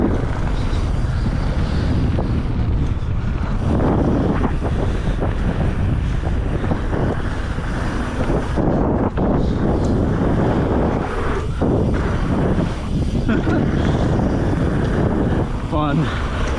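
Strong wind buffets the microphone, a constant loud roar with gusty rumbling throughout, with a voice briefly under it near the end.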